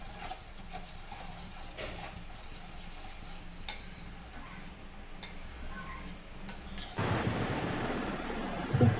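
Upma being stirred with salt in a pan: soft scraping and faint clinks of a spoon run steadily at close range, turning louder and more vigorous near the end, with a light sizzle beneath.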